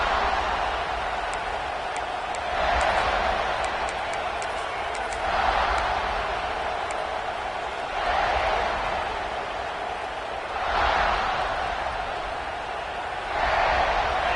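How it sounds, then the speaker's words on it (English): Football stadium crowd with a steady roar that swells into loud surges every few seconds, fading back between them. "This crowd ready to make its presence known."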